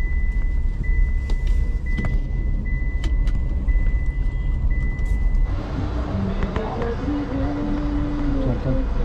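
A car moves through crowded traffic on a hill road toward Lohaghat, with a steady engine and road rumble throughout, a passing vehicle and a brief beep, while people talk over it.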